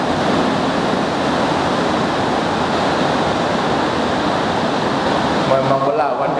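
Heavy rain falls in a dense, continuous hiss at an outdoor religious gathering, holding steady and loud throughout.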